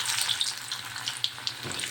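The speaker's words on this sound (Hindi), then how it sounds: "अब हम इसमें एक एक करके अपने कोफ्ते को फ्राई कर लेंगे।" Bottle gourd kofta balls frying in hot oil, a steady close sizzle with crackling pops and bubbling spatters throughout, no voices.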